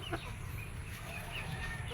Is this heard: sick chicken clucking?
yes